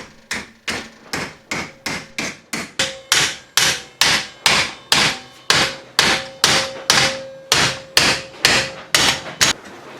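Sheet metal folded over a piece of timber with a hammer during camper van inner wing repairs, about two dozen loud, close, evenly paced blows with a slight ringing tone.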